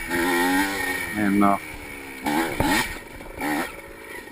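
A 1985 Yamaha IT 200 two-stroke motorcycle engine revs in steady rising and falling bursts during an AHRMA cross-country race at Barber, heard mostly beneath someone talking.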